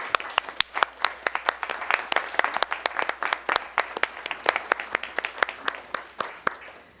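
An audience at a school board presentation applauds the teachers and parents, crisp individual claps from a modest crowd, steady and fairly close, lasting several seconds.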